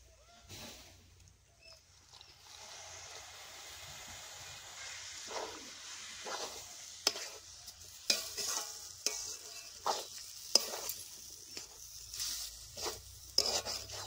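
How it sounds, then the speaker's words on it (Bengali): Semolina being stirred in a frying pan with a little water, a soft sizzle under repeated scraping and stirring strokes that come in irregular bursts, close and fairly quiet, with no talk. "নাড়াচাড়া করতে হবে, নাহলে নিচে লেগে যাবে।"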